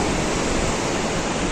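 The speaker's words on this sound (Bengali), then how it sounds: "রেস্টুরেন্টের পাশেই রয়েছে একটি পাহাড়ি ঝর্ণা।" A mountain waterfall beside a roadside restaurant in Himachal roars as a dense, steady rush of falling water, close and loud with no voices.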